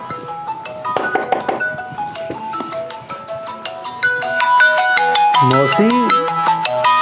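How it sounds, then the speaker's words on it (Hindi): A phone ringtone plays a bright repeating electronic melody for several seconds, loud and close, with a voice speaking over part of it. "कुछ ज़्यादा ही फ़ोन आ रहा है आजकल"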